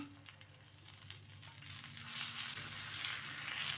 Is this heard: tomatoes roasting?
yes